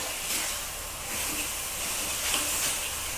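Minced pork stir-frying with a splash of water in a pan gives a steady, close hiss and sizzle, with light scraping from the spatula now and then.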